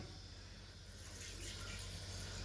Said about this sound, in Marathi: पाच मिनिटानंतर पाणी टाकायचं ओके टाकतायत काका टाका पाणी